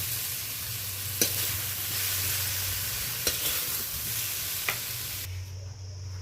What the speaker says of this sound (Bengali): এবার কাঁচকলাটা ফ্রাই করে নিলাম ভালো করে।